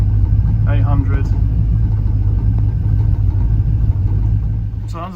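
An LS V8 swapped into a second-generation Pontiac Firebird holds a steady low idle near 800 rpm, a loud continuous rumble with an even pulse, while someone talks over it.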